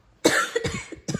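A single close, sharp cough bursts out during khoomei throat-singing practice, followed by a short rough hacking tail and a second brief cough.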